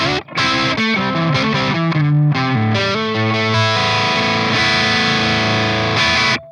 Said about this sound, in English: So this is a nice low gain crunch.